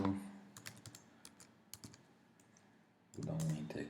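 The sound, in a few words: computer keyboard typing, pressing enter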